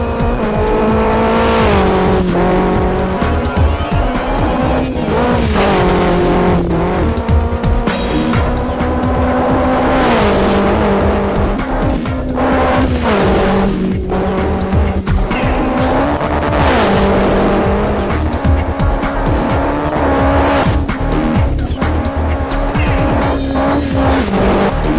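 Citroën WRC rally car in the Richard Burns Rally video game, racing on a gravel stage: a loud, continuous engine roar rising and falling through gear shifts, with tire and gravel skid noise throughout, no talk.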